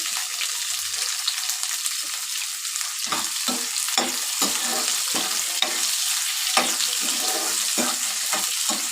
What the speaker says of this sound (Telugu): చూడండి వేగిపోయినాయి ఎర్రగడ్డ కరివేపాకు పచ్చిమిరపకాయ